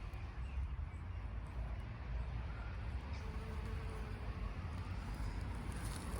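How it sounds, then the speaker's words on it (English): Steady buzzing of bees on bramble flowers outdoors, blended with a low continuous rumble of distant background noise, without pauses. "Bees loving the bramble flowers."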